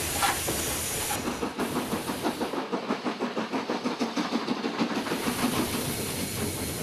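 Steam hisses loudly and continuously from a steam locomotive's open cylinder cocks, with a rapid rhythmic chuffing pulsing underneath, close by.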